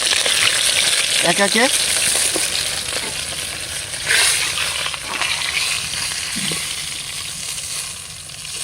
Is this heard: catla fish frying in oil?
yes